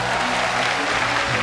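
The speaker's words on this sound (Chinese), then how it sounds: "我们最热烈的掌声送给四位金牌导师" Loud, dense applause for four gold-medal mentors at a televised youth singing competition stage show, a continuous wash of clapping from a large studio audience with no voices over it.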